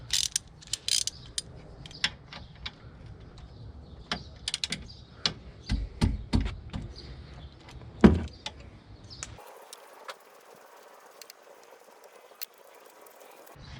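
An 11 millimeter wrench works a brake line bolt on a 6th gen Camaro ZL1 1LE, producing a close, irregular run of metallic clicks and clanks with one sharp knock, then quieter scraping toward the end.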